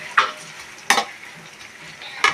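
Thinly sliced onions sauté in a wok, with three distinct scraping stir strokes spaced about a second apart over a soft, continuous sizzle, heard close up.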